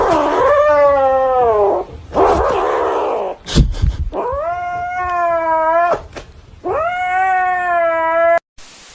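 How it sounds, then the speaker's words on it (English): A newly adopted cat lets out several long, drawn-out meows, loud and close, separated by brief gaps with a few scuffing noises between them. "Just got my new cat."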